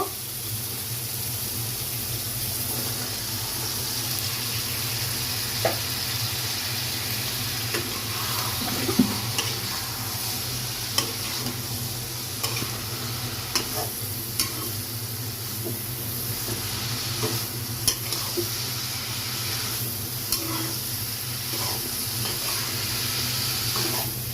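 Taro stolons frying with cooked shrimp and mustard paste make a continuous hissing sizzle, with scattered clicks and scrapes of stirring across a long stretch.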